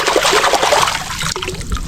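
Water trickles and splashes steadily as a fresh catch of harabas is rinsed, a close, continuous wet pouring that briefly breaks off before resuming more gently.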